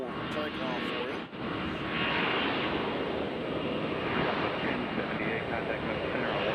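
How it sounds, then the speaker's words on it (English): A passenger jet on its full takeoff roll departing Nashville airport, bound for Detroit, gives a loud, steady broadband engine roar that holds strong throughout with no pause. "Nothing coming in, so we'll do the whole full takeoff for you."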